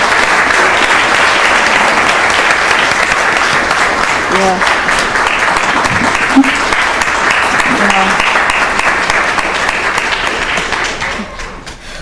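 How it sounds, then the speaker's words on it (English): Loud, sustained applause from a council meeting audience honoring city staff, dense clapping throughout that fades near the end, with a brief voice heard among it. "let's give him a round of applause"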